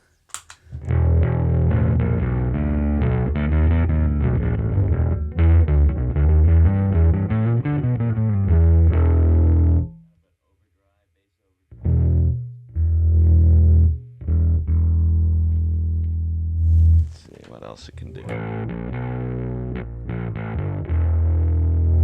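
A bass guitar plays riffs through a Roger Mayer Voodoo Bass distortion pedal, thick and buzzy, with a pause and a few short phrases before playing resumes; a voice speaks briefly.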